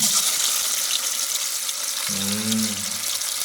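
Chicken frying in hot oil over a wood-fired village stove, a loud continuous sizzle and hiss close by, with a brief low tonal hum joining partway through.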